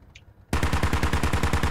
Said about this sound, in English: And now firing in, trying to lay down some suppressive fire on this northeast side.